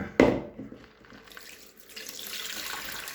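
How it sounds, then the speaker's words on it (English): Soaking water drained from a container of soaked popcorn kernels, an initial splash followed by a steady running pour and trickle, close by with no talking. "we're going to drain this water out"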